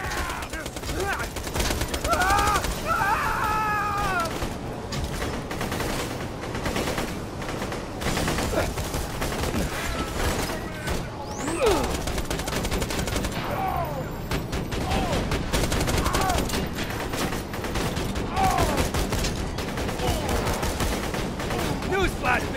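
Turret gunfire in Borderlands 2 during the Ravenous Wattle Gobbler DLC, rapid continuous bursts of shots with explosive crashes throughout, loud and dense, with voices and game chatter layered over the fire.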